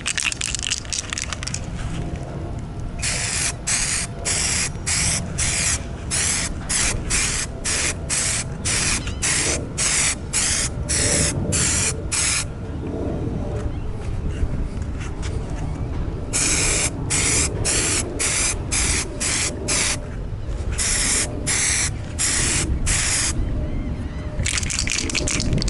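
A SprayMax 2K clear coat aerosol sprays onto a headlight in a repeated series of short hissing bursts, steady pulses that stop and start again, loud and close, with quieter gaps between passes.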